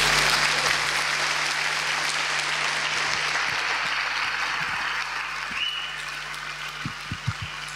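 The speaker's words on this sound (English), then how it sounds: "let's give them a big cheer" A lecture audience claps and cheers for a school's young musicians, dense applause that starts loud and gradually thins out, with a few sharp individual claps toward the end.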